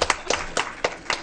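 A few sharp hand claps ring out in an even rhythm at a school board meeting, about five distinct claps spaced evenly over a second, moderately loud and close.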